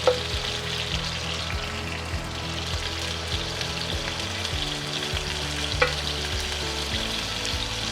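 Potatoes frying and glazing in a pan for chicken adobo, a strong continuous sizzle and crackle with occasional utensil clicks, close and unbroken by any talk.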